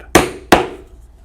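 Two sharp metal hammer strikes on a hole punch driven through a piece of leather on a hard surface, spaced about a third of a second apart, each ringing briefly before fading.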